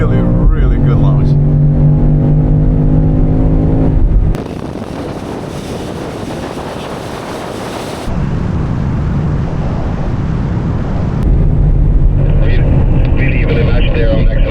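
A car launches hard and accelerates down a drag strip, its engine roaring loud and close amid heavy wind buffeting, with the tone shifting abruptly as it pulls away.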